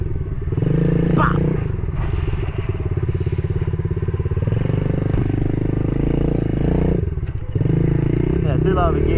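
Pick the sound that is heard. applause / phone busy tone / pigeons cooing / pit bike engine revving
pit bike engine revving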